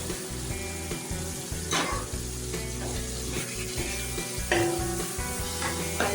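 Flame-roasted eggplant bharta is stirred in a pan over low heat, a close, steady sizzle with scraping stirring strokes and occasional louder spatters.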